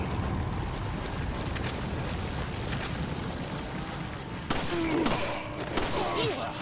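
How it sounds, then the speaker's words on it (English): Grenade explosions in the Resident Evil 4 video game go off as a few loud, broad bursts late in the stretch, heard over a steady rumbling bed of game noise and other combat sounds. "I'm wasting so many grenades."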